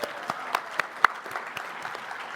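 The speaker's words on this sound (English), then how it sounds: "One more big round of applause for our readers." Scattered, fading applause from a small audience at a book reading marking a publisher's twentieth anniversary, a few distinct claps standing out over a thin, soft patter.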